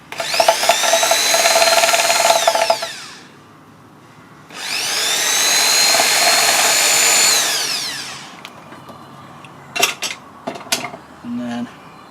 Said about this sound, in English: It's just really a case of drilling a pilot hole and then letting the screw do the work.